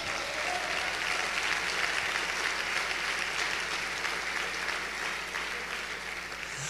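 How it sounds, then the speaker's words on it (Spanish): Church congregation applauding at a worship service, a dense, sustained wash of clapping from many hands that holds steady throughout, moderately distant and without talk. "Denle un aplauso a Cristo, mis hijos."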